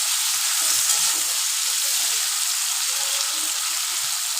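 Prawns fry on a high flame in a pan for a prawn and potato curry, giving a steady, close hiss that holds level throughout without a break.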